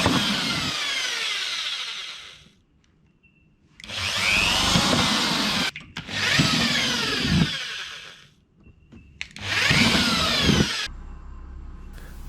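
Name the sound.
power drill drilling holes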